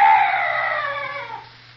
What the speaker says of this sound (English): Oh, what's that? Oh, some night bird.